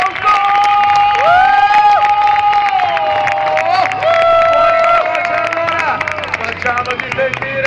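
Crowd clapping and cheering at a freestyle motocross show at Motodays Roma, with a sustained wash of applause and loud announcer-style speech over it throughout.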